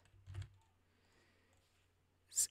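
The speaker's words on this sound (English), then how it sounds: "select all and type your text" Keys clicking on a computer keyboard while text is entered for a design, a short burst near the start and a sharp tap at the end, quiet and alone.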